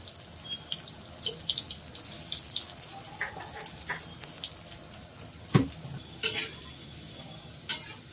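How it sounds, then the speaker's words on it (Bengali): Masoor dal dhoka pieces frying in hot mustard oil in a kadai, a soft continuous sizzle broken by clinks and scrapes from stirring, with a few sharp knocks near the end. "মসুর ডালের দোকাগুলো ভেজে নেব।"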